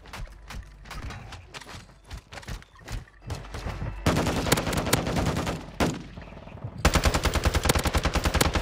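Rapid automatic gunfire in the Warzone 2 video game, scattered shots early giving way to loud sustained machine-gun bursts, close and intense, with no clear talk over it.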